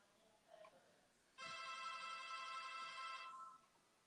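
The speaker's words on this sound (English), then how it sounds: "the phone is ringing" A telephone bell rings in a steady trilling burst of about two seconds, loud and clear over a quiet background, preceded by a faint brief tone.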